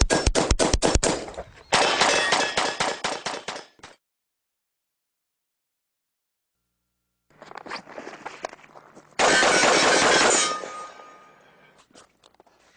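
Pistol fired at a shooting range in rapid strings of sharp shots, with a fast volley, a silent gap, then another dense burst, loud and close with no talk.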